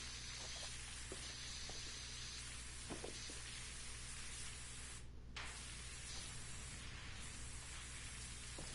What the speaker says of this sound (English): we're gonna put in some plastic cleaner